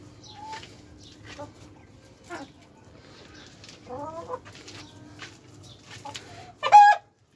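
Free-range native chickens in a backyard coop give scattered soft clucks and short calls over a faint steady hum, building to one loud squawking call near the end.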